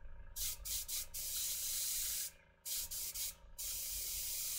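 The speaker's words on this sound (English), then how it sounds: "So I am spraying the whole sheet very lightly." Spray paint misted lightly across a whole vellum sheet in short close bursts, a steady hiss broken by several brief pauses.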